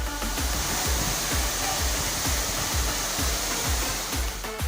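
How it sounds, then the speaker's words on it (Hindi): Water overflowing from a supply tank and pouring down at full force like a waterfall, a dense, unbroken roar that stays loud and constant with no voices. "टंकी ओवरफ्लो हुई तो फुल स्पीड से पानी नीचे गिरने लगा और झरने जैसा नजारा बन गया।"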